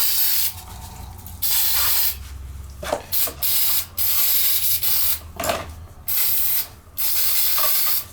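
Carburetor cleaner is sprayed from an aerosol can onto a crusty oil burner nozzle, heard as several loud, close bursts of hissing spray with short pauses between them.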